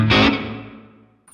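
Studio B reverb on a Positive Grid Bias Head amp: one loud distorted guitar chord struck and left to ring, its tail decaying smoothly over about a second.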